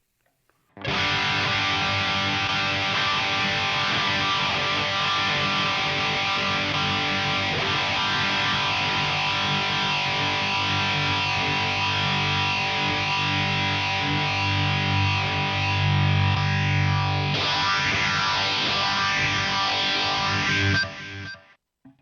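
A distorted electric guitar plays sustained, thick chords through a modulation effect, with a swirling, wavering tone. The sound is loud and steady, then shifts near the end before stopping.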